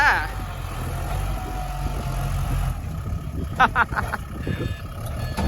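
A low, steady engine rumble of a Kubota L5018 tractor idling and running, with some intermittent clatter and mechanical noise over it.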